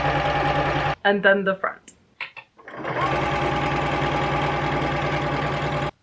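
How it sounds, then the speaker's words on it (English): Sewing machine stitching the sleeves of a silky satin robe, a steady fast mechanical whir that runs, breaks for a moment while a person speaks, then resumes continuously. "it's time for the great sewing. We are first going to do the sleeves."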